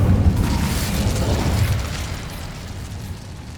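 An Incendio fire spell bursting in Hogwarts Legacy, a loud rumbling whoosh of flame that swells at once and then fades over a few seconds, alone without talk.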